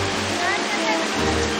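Hot spring waterfall in Yunnan or Sichuan, China, a steady broadband rush of falling water, loud and continuous through the whole moment.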